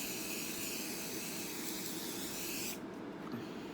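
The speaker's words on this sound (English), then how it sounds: "I just spray it on like that" Airbrush spraying liquid makeup foundation onto the face, a steady close hiss of fine mist running continuously for a few seconds before cutting off, leaving quiet room noise.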